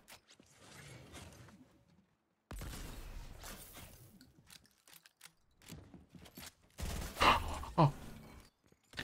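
Gunfire in the video game Fortnite: bursts of several shots in separate clusters with gaps of silence between, moderately loud and mechanical.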